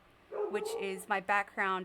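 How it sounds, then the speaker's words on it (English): A pet dog barking outside, several short yelping barks in quick succession, heard under a person talking nearby. "I'm sorry if you can hear my dog barking outside."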